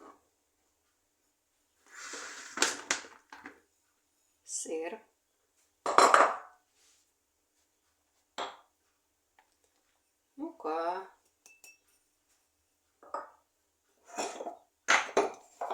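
A utensil works cheese dough of cottage cheese, flour, eggs, salt, sugar and oil in a bowl, giving intermittent clinks and scrapes against the bowl between stretches of someone talking.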